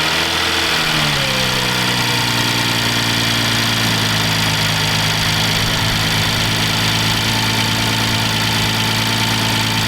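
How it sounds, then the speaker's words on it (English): A BMW B58 engine cranks and catches after a spark plug and ignition coil change, then settles into a steady, loud, close idle with a constant droning hum. "We're gonna do a first startup just to make sure everything is on the up and up."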